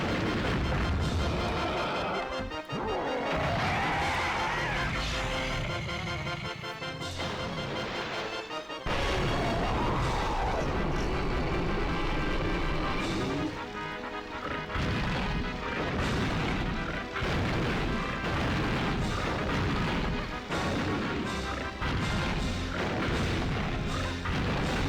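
Continuous loud booming and crashing bursts of fireball explosions fill a Donkey Kong 64 boss fight, dense and relentless throughout with no talking.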